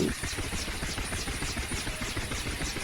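Huey helicopter engine and rotor running in a flight simulator such as DCS World or X-Plane 11, a steady close turbine whine under rhythmic rotor blade thumping, continuous and even throughout.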